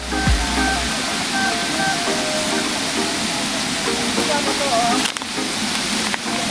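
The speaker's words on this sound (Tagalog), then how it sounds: "Ito yung busay na tinatawag." A waterfall on a rural hillside property rushes with a steady, loud, continuous roar of falling water that fills the whole stretch without a break.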